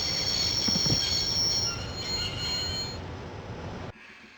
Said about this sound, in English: I wondered if the authorities would consider this sufficient reason for stopping the train. I'd always wanted to stop a train, and now was my chance.